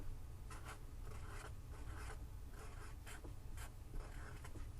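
Roman numerals are written out during a math lecture: a pen or marker scratches across a writing surface in short, repeated strokes, close and faint over a steady low hum, with no talk.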